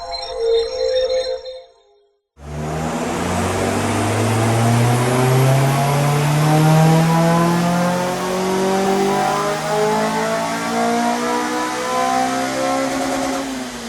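A Honda Civic EP3 Type R engine on a dyno, cutting in after a brief silence and holding a loud, sustained high-rpm roar that climbs steadily in pitch through a long pull.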